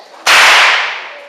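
A single loud stockman's whip crack, swung over a horse's head, snaps sharply and close, then its echo trails away for a second.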